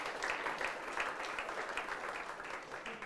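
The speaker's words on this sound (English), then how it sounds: "Round of applause for all of them." An awards event crowd claps steadily for the finalists, dense and continuous applause at a moderate distance, with a faint voice underneath.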